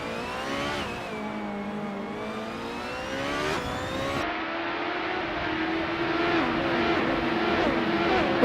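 Formula 2 race cars, 2014 Dallara GP2/11 single-seaters in a racing video game, whine steadily at high revs with rising and shifting engine pitch, close and loud throughout with no gaps.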